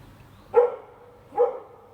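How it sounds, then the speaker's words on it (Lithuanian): A dog gives two short, loud barks spaced almost a second apart, close by, in a quiet room without talking. "Nefritai, o tu klausaisi šunį?"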